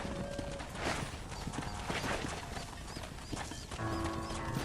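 Horse hooves clip-clop steadily in the Red Dead Redemption western video game, set against a dense, busy game soundscape.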